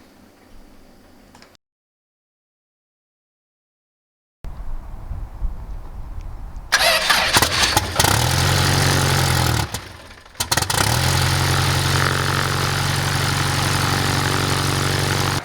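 A Lycoming IO-360 aircraft piston engine cranks and catches after a short silence, then settles into a loud, steady idle with a brief dip before running on evenly.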